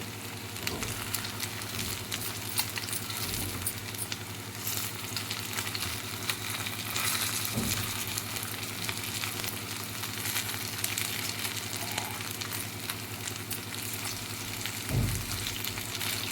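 Poha and green pea cutlets sizzle steadily in oil in a pan, a constant close frying hiss with a few soft clicks as they are flipped, no voices.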